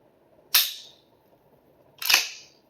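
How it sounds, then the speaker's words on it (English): Firearm cycled through a function check, giving two sharp, bright metallic clacks about one and a half seconds apart, each with a brief rattling decay, heard close and alone. "Should be a very robust thunk of the trigger reset."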